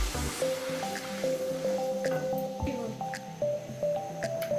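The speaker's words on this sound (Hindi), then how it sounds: "टमाटर डाल के इसको अच्छा से मिक्स करेंगे।" Four medium tomatoes are stirred into hot cooking oil in a kadai for a dhaba-style dal chana, giving a close, wet squishing and sputtering under a continuous oily sizzle.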